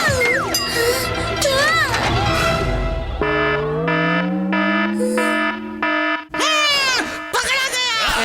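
A cartoon alarm blares with loud repeating electronic tones and warbling sweeps, broken up by animated characters shouting and talking over it.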